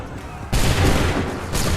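A musket volley from a line of soldiers in Assassin's Creed 3, a sudden loud crash of massed gunfire breaking in after a quiet moment, followed by a second burst.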